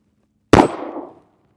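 A single sharp shot from an S&W Bodyguard 2.0 .380 pistol firing Hornady American Gunner 90 gr XTP ammunition, loud and close, with a brief ringing decay afterward and silence around it.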